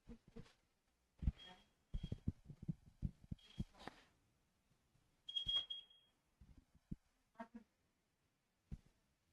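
A smoke detector-style alarm gives short, high beeps in a few separate bursts, faint and intermittent, among quiet talk and room noise.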